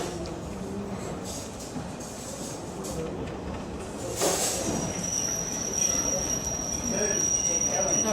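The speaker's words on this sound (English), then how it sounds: "here comes the Heritage Line train that goes down to Meldon Viaduct" The Heritage Line train to Meldon Viaduct pulls into a station with wheels squealing on the rails and a steady rumbling roll. A high metallic screech rises partway through, and faint voices sit under the noise.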